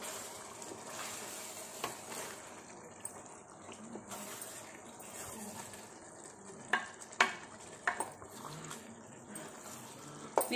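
Biryani masala for chicken biryani being mixed in a pot, a faint low sizzle under scattered scrapes and a few sharper knocks of the spoon near the end, quiet and close.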